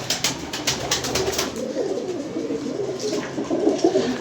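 Pigeons coo in soft low murmurs from nearby, with a few sharp fluttering wing flaps early on, all over a faint background hum.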